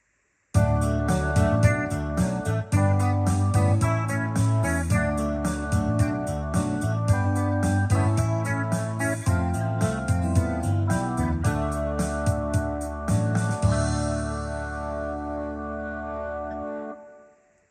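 A complete multi-track song built on a Yamaha PSR-SX920 arranger keyboard plays back, with dense layered instruments and steady rhythmic hits running continuously before the sound thins and fades out near the end.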